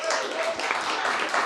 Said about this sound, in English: So let's just give Studio 12 a round of applause